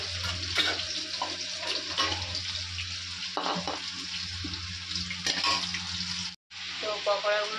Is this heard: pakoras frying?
yes